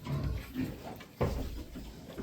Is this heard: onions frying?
no